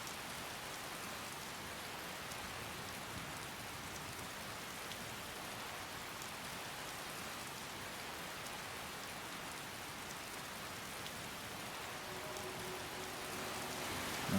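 Steady rain falls in Skyrim's outdoor world, a dense, even hiss of drops on the ground that holds constant and unbroken throughout, with no voices or thunder.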